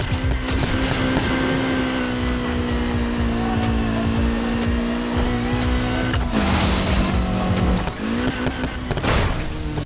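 A car in the racing video game Need for Speed Heat jumps and lands: a loud, steady engine roar with tire squeal, then a sudden change in pitch and a broadband thud of the landing before the engine surges again.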